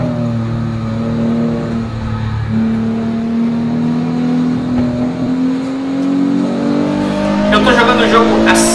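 Race car engine sound in the Assetto Corsa driving simulator, a steady droning whine that rises gradually in pitch as the car accelerates, with brief rougher bursts near the end.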